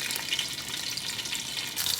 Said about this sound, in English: So my fish is frying away beautifully.